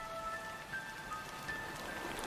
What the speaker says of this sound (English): That call comes with the first of the monsoon rains.